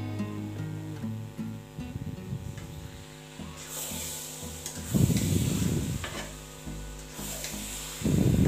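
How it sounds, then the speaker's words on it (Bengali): Olive pickle being stirred continuously in a pan so it won't stick to the bottom, a steady scraping and rubbing with soft sizzling, close and fairly loud, with stronger bursts of stirring. "তো আমাকে অনবরত আচারটাকে নাড়তে হবে, নতুবা তলানিতে লেগে যাবে।"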